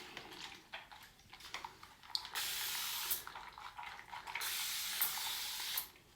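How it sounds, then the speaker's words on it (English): Several sharp hissing spray bursts from a spray bottle misting water onto hair, a few short ones followed by longer sustained mists, close up and fairly soft. "I'm just gonna spray a little bit more water"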